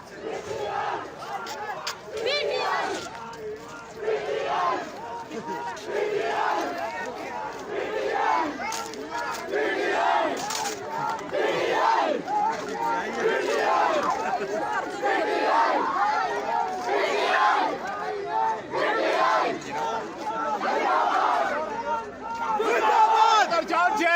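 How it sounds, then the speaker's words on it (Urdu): A crowd of young people at a PTI rally in Abbottabad chants loud slogans for Imran Khan, rising and falling voices overlapping in rhythmic bursts that build louder toward the end. "نوجوانوں نے نہ صرف PTI کے جھنڈے لہرائے اور عمران خان کے حق میں شدید نعرے بازی کر کے کہا ایبٹ آباد صرف خان کا"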